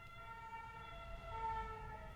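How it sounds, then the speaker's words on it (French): An ambulance siren wails outside, faint and distant, its wavering tone rising and falling steadily behind a quiet room. "Je viens de commencer la vidéo et voilà que l'ambulance se ramène."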